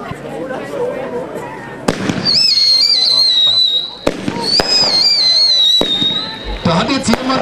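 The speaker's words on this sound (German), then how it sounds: "Da hat jetzt jemand aus Versehen das Skeleton angezündet." A PyrotechniX Skeleton firework cake fires off a series of loud bursts and crackling pops, with whistling tails rising between the shots; people talk and chatter nearby.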